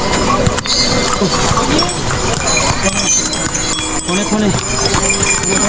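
Horses on the crowded mountain trek path to Kedarnath: hoof clatter mixed into a dense, loud wash of crowd noise, with people talking throughout.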